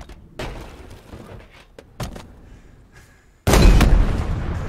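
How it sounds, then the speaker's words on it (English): An anti-aircraft gun firing in a video game: a few sharp booms early on, then a loud, sustained blast of fire near the end over quiet game background. "I think I just got an AA gun."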